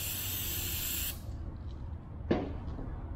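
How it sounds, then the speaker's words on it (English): Aerosol brake cleaner blasts onto ring gear bolts of a Can-Am SmartLok differential, a loud steady hiss that cuts off abruptly after about a second, followed by quiet shop ambience and a brief clank. "We need to take these ring gear bolts, give them a good blast of brake clean"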